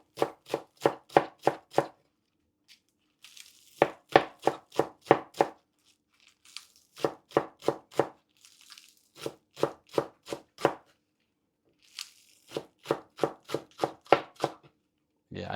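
A knife chops green onions for yakisoba, quick, evenly spaced cuts on a board falling in bursts of five to eight strokes with short pauses between, close and crisp, no talking.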